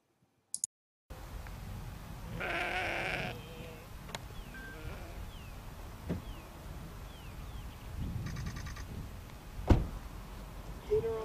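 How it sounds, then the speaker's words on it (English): A herd of sheep and goats on a small path in the Tibetan or Mongolian countryside bleats off and on, with scattered calls at moderate distance over outdoor background noise. Faint voices can be heard. "we encountered a herd of sheep and goats"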